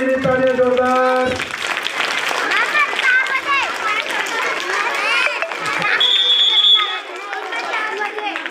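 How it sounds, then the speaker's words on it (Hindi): A crowd at a youth group gathering claps loudly and steadily after a tonal sound at the start, with dense applause and scattered voices and chatter throughout. "पूरी एक बार तालियां 5 बजे वाले के लिए तालियां जोरदार"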